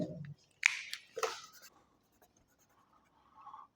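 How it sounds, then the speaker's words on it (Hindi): A pen scratches out a few short strokes on a board or paper, faint and close, with a brief voice at the start. "मैं दूसरे कलर के पेन से लिख देता हूं।"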